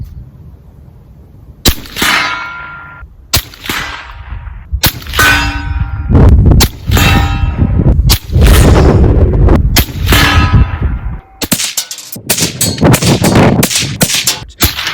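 Rapid strings of loud gunshots from a Sig MCX Rattler short-barrel rifle in 5.56/300 Blackout firing Federal Fusion ammunition, close and sharp with ringing metallic echoes, in bursts separated by brief pauses, ending in a fast volley.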